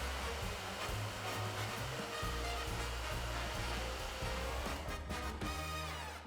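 A steady, loud hair dryer blows continuously, a constant whooshing roar with low motor hum, easing slightly near the end.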